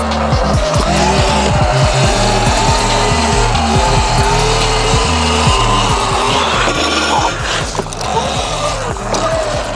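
Metal of a bike grinding and scraping along the ground during a wheelie, a loud, harsh, continuous rasp with pulsing rhythmic bursts, close and dominant throughout.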